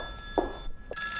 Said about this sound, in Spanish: Demonios, otra vez el teléfono.